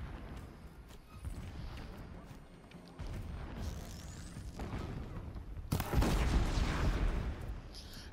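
Gunfire from the Horizon Zero Dawn video game, a burst of shots among busy game effects and music, with a louder crashing impact toward the end.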